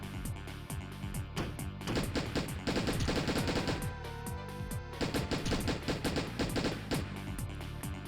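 Rapid bursts of gunfire from a run-and-gun platformer shooter in the style of Contra or Metal Slug, loud and continuous with dense repeated shots layered over game music, with short pauses between volleys.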